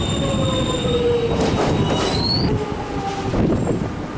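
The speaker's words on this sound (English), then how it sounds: "Here comes our Glen Waverley train." A Melbourne suburban train rolls along the rails with high, sustained wheel squeals rising and falling over a constant rumbling clatter.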